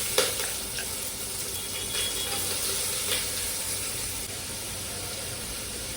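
Onions frying in hot oil for a bitter gourd pulusu, giving a steady close sizzle with a few small pops and stirring clatters near the start, with no voices.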